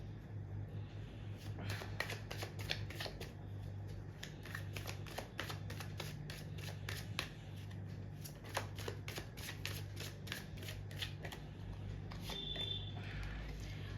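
Tarot cards shuffled by hand in a quiet room: a long run of rapid, dry riffling flutters with a few pauses, close and soft, over a faint low hum.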